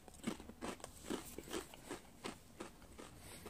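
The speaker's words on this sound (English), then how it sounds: "it's a harder chip, and we're gonna eat" A hard prawn cocktail flavoured crisp being chewed, with about eight close, sharp crunches coming in an uneven rhythm, faint but clearly distinct, with no talking.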